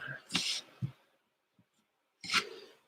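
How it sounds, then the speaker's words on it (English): A person sneezes once, a sharp close burst with a short inhale before it, followed by a moment of quiet and another brief vocal burst. "ooh, I gotta sneeze."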